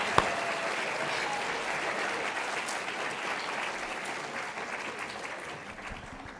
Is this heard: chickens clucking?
no